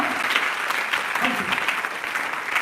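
A church conference congregation claps loudly and continuously, with a voice speaking faintly beneath the dense applause.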